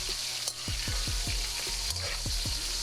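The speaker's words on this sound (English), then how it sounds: "let that continue to fry" Baby corn fries in a pan with oil, giving a constant close sizzle punctuated by a series of quick scraping stirs.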